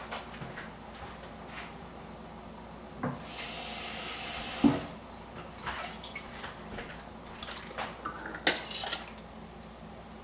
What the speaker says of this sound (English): Just a little bit of water from the tap.